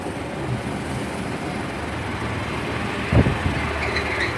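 Class 143 diesel multiple unit 143624 pulling into Cathays station on the 0903 service from Barry Island to Merthyr Tydfil, a steady low rumble with a brief louder thump partway through, heard alone.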